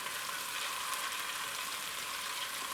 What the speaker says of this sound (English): So I've heated up the vegetable oil on a high heat, and I'm going in with my garlic and the hot pepper.